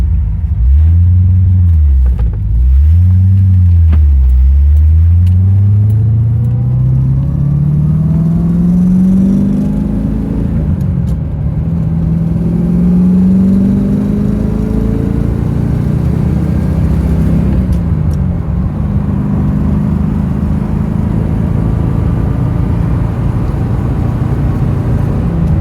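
A 1969 Corvette engine accelerates on a road, its rumbling tone rising steadily in pitch through repeated gear pulls, loud and close throughout with no talking.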